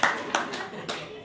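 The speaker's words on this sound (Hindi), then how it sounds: "प्रभु जी के लिए ताली बजाओ" An audience at a one-day Gita seminar in Baraut claps for a participant, several quick sharp bursts of hand claps close by, the last ones thinning out.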